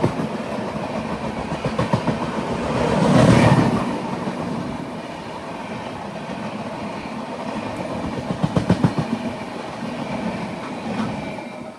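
The TATA Nagar Express runs on, heard from inside a 3AC coach: a steady rumble with rhythmic clickety-clack of wheels over rail joints and a louder surge of passing noise partway through.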